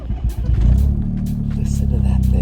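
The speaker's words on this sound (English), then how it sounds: "Oh, it's got the K car rumble. The little K car rumble right there." A small Suzuki Cervo Mode kei car engine rumbles up close with a steady low throb, rising briefly as if revved, while excited voices talk over it throughout.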